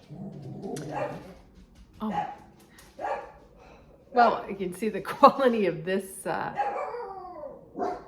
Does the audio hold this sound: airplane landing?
no